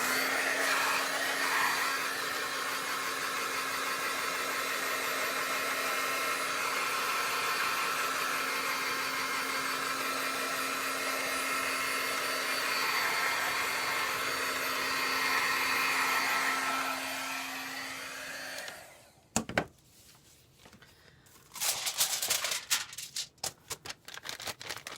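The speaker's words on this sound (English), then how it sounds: "I'm going to take a heat gun to this again." A heat gun blows hot air over a mixed media artwork in a loud, steady roar for about nineteen seconds, then cuts off, followed by scattered clicks and handling noises.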